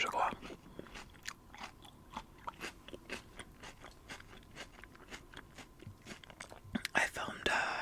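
Close, crisp crunching bites and wet chewing of hwachae, a Korean fruit punch dessert, come in a steady series of small clicks and smacks, with soft whispered talk mixed in.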